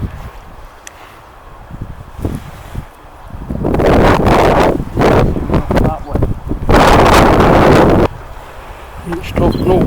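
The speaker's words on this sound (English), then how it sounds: "it's really quite windy again." Strong gusts buffet the microphone outdoors during a quadcopter test flight, building from a moderate rumble into loud, sustained roaring bursts with brief lulls, a voice speaking faintly beneath.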